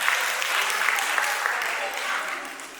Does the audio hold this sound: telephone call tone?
no